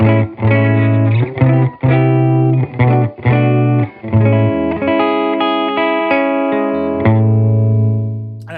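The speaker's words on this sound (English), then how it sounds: "Silktone amp sounds like this" Electric guitar, a Sipe Guitars OH10 played through a Silktone amp, rings out in sustained chords and notes with strong harmonics and a touch of drive, several stabbing strums early then longer held tones, fading at the end with no talk.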